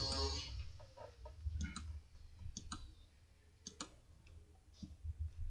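Computer mouse clicks, a handful of sharp, dry ticks spaced irregularly, some in quick pairs, close and fairly quiet over a low background hum, with no talking.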